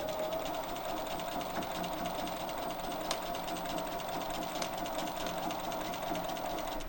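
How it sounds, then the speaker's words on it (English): A sewing machine stitches steadily back along a quilt edge in a quilt-as-you-go project, a continuous close whirring hum running without pause at an even, moderate level. "Now from here, stitch back along the edge."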